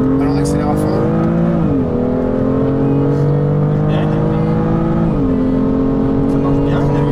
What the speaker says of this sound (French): Allez, on accélère à fond.